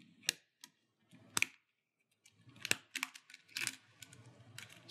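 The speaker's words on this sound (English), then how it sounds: "insert your tool under the side of the key, and then drag downward along the bottom edge to separate from the metal support arm" Faint plastic clicks and ticks as a keycap is pried off an HP Pavilion laptop keyboard, a handful of sharp snaps spaced out among light scraping, close and quiet.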